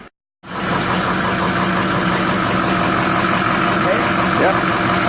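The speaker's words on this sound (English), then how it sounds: "He's pulling the truck in right now and we're going to hook it up." A truck engine idles steadily as the truck pulls in at a snowplow repair job, a loud, continuous, close-up rumble with no break.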